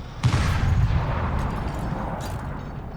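Tank cannon fire in the video game War Thunder: a loud, booming shot followed by a dense, rumbling low-end roar of continuous gunfire and impacts that fades slowly over three seconds.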